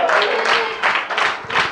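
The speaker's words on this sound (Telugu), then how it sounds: "మరోసారి గట్టిగా క్లాప్స్ ఇచ్చి దేవుని స్తుతించుకోండి అందరూ" Congregation at a church meeting in Anakapalli clapping loudly in praise, a short burst of dense applause in pulsing waves, close and full.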